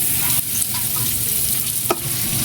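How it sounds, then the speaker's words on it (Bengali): Chopped onion, green chili and taro frying in oil in a pan, a continuous close sizzle with stirring scrapes and a sharp utensil tap near the end. "আমরা পেঁয়াজ কুচি এবং কাঁচামরিচ দিয়ে ভেজে নিচ্ছি।"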